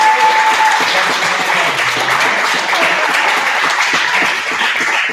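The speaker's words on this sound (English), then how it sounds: "Big round of applause for Mr." Steady, loud applause from an audience at a martial arts belt presentation, dense clapping that carries on evenly for several seconds with a few faint voices mixed in.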